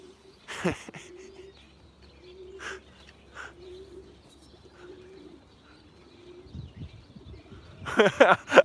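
Racing pigeons coo nearby, low soft repeated coos at a steady pace, with a few brief flutters and chirps and some sharper bird calls near the end.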